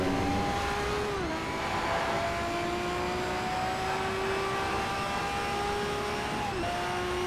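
A Pagani Zonda R engine in the racing game Need for Speed: Shift on PS3 howls steadily and loudly, its pitch sliding down and back up through gear changes and corners, with no voices over it.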